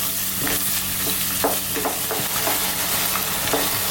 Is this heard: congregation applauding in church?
no